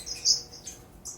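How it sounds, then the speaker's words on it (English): A few thin, high-pitched lavender finch chirps in an aviary, one brief call then a pause and another pair of tweets, close and clear over faint background hiss. "the lavender finches are super curious birds"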